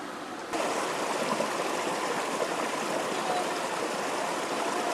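River water flows steadily, a constant rushing hiss that starts just after a brief moment and stays even and fairly near, with no voices.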